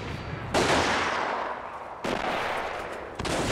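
Dense gunfire and battle noise from Company of Heroes, a World War II strategy game pitting US tanks against German infantry, with loud sustained bursts of shooting and explosions that cut off abruptly and resume in waves.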